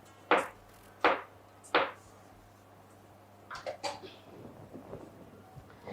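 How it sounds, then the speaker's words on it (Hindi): A knife slices a garlic clove thinly on a board: three sharp, evenly spaced chops up close, then softer, scattered taps and faint rustling. "मैं एक जवे लहसुन को पतला पतला काट के इसमें डालूंगी"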